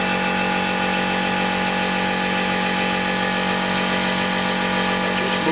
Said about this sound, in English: the compressor kicks in just when you don't want it to